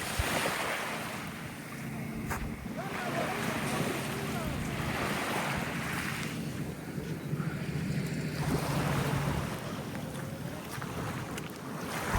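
Steady broadband rush of Red Sea waves at Al Wajh beach, Saudi Arabia, mixed with wind buffeting the microphone, continuous and fairly close throughout, with a boat's low hum underneath.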